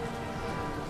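Steady rain in the video game Tron Identity patters as a dense, even hiss, continuous and fairly faint with no voices.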